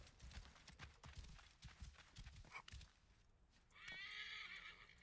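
A horse in Assassin's Creed Origins gives a bright, loud whinny near the end, after a stretch of hoofbeats clopping along in a steady rhythm, close and clear.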